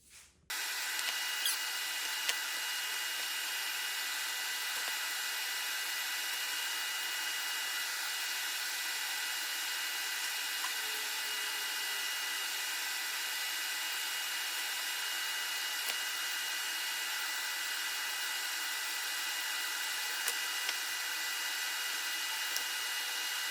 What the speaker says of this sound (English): That way the bearing rides along the acrylic template and the bit's actually cutting the wood.